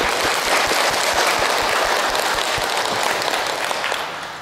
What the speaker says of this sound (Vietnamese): Xin toàn thể quý vị cho tràng pháo tay thật lớn để chúc mừng.